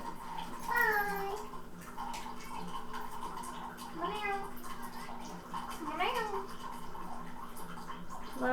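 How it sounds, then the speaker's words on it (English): A female house cat meows a few times, soft mid-range cries rising and falling at intervals over a steady low hum, with no voices. "I do have the cat with me though."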